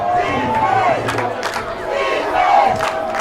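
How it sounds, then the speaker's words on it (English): Football crowd in the stands chanting defense for the Gladiators at a San Mateo versus Chabot college game, a loud massed rhythmic chant from many voices throughout. "the crowd chanting defense, trying to will their gladiators to make a stop"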